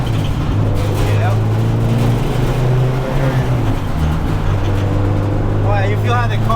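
A turbocharged 1992 Honda Civic EG engine drones steadily from inside the cabin, a low constant rumble with road noise throughout.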